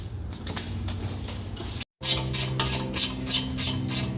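A ratchet wrench snugs the mounting bolts of a Rockarmor GT bull bar onto a 300 Series Landcruiser, giving steady rapid clicking bursts close by, broken by a brief pause, with no talk.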